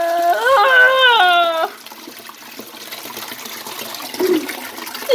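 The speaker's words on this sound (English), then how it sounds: "Really flush it." A toilet flushes in a comedic puppet skit, starting with a rising musical tone at first and then settling into a rushing, gurgling water sound with a louder swirl near the end.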